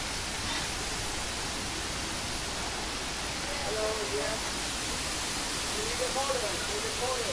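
Steady, full rushing of waterfalls in a park in Palmanova, Mallorca, a broad even wash of falling water that fills the scene, with faint bird chirps rising above it in the second half.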